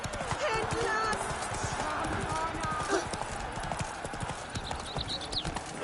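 Steady clip-clop of the horse Roach galloping in The Witcher 3 video game, hooves drumming fast and close throughout, with a brief whinny and a voice talking over the gallop.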